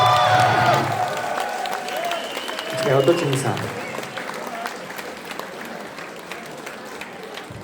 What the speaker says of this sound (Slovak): Spravíme im ešte veľký potles, prosím vás, lebo sú absolútne poteční.